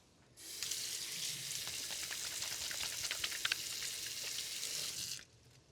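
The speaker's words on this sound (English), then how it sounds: "I'm going to give my hands a quick wash." Hands are washed under a running kitchen tap, a steady, close stream of splashing water that starts abruptly, runs for about five seconds with small spattering bursts, and then cuts off.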